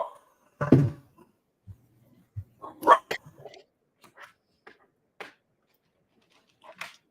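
Dog barking and whimpering indoors at home, with one loud burst followed by scattered short yips and whines spread across several seconds against a quiet room.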